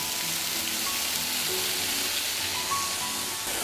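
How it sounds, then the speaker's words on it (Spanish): Chopped onion and carrot sautéing in olive oil in a hot frying pan, a steady dense sizzle close up that continues without pause. "Ponemos un poquito de aceite de oliva en una sartén caliente y vamos a saltear la verdura"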